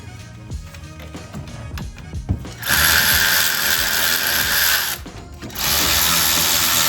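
A power tool whirs loudly in two sustained bursts, loosening brake bracket bolts on an 8th-generation Honda Civic, after some clanking and handling noise.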